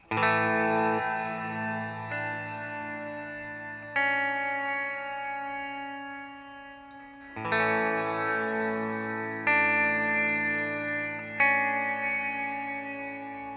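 Guitar chords ring through an OBNE DarkLight ambient reverb pedal with decay set halfway, each strum blooming into a long, shimmering wash that fades slowly before the next, six or so chords in all.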